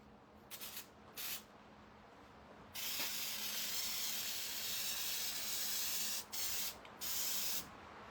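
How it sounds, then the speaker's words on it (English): Quilt basting spray hisses from an aerosol can onto a wooden cable-spool table top, with a few short bursts followed by long steady sprays, fairly quiet and with no talk. "All I used was quilt basting spray."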